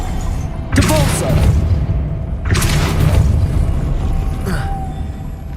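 Depulso spell cast in the video game Hogwarts Legacy, two heavy booming whooshes with rumbling thuds about two seconds apart, loud and close, followed by a fainter echo.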